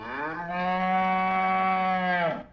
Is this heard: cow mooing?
yes